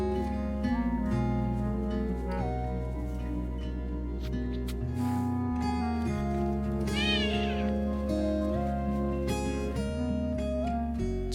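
A cartoon mama cat meows briefly, a short rising and falling cry set against continuous loud background music.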